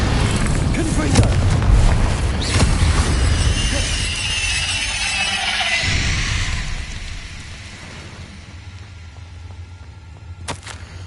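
Confringo and Bombarda spells explode in Hogwarts Legacy, a loud run of booming blasts and shattering crashes that rumbles for several seconds, then fades to a quieter hum with one more sharp crack near the end.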